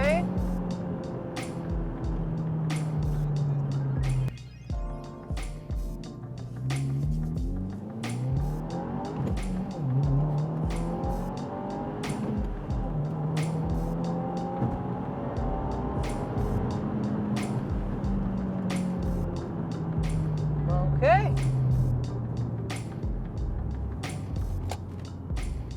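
A 2022 Subaru WRX with its stock intercooler drives a test run, its engine rising and falling through repeated acceleration sweeps and gear changes, steady and close throughout with no talk.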